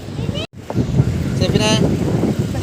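Strong seaside wind rumbles and buffets the microphone beside the sea and backwaters, with a brief dropout and voices talking faintly underneath.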